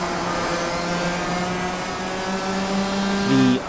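Go-kart engines in the rFactor 2 racing game drone steadily through a race replay, a buzzing near-constant engine tone with a slight swell near the end.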